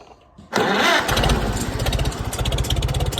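An IH Farmall M tractor engine with a newly swapped electronic ignition cranks briefly, catches loudly and settles into a steady, throbbing idle nearby.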